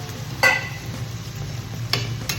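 Spoon stirring elephant foot yam and potato curry in a pan with added water: a couple of sharp scraping clinks against the pan over a low steady simmering hiss, no talk.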